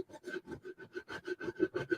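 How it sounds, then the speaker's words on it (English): A small hand file rasps along an edge in quick, steady back-and-forth strokes, about a dozen close-up passes in two seconds with no talking. "go over one of these edges with one of my little handy dandy little sanding tools here. Well, filing tools"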